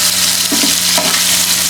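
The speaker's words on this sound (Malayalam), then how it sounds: "എന്നിട്ട് നന്നായിട്ട് നമുക്ക് ഇങ്ങനെ ഇളക്കി കൊടുക്കാം കേട്ടോ." Onions and carrots frying in a pot as they are stirred, a close, loud, continuous sizzle with a few brief utensil scrapes, no speech.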